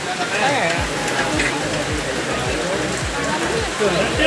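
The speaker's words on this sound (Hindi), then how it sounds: "बारिश बंद नहीं हो रही" Steady rain pours down close by with a dense, continuous hiss and patter that never lets up, with faint voices somewhere in the background.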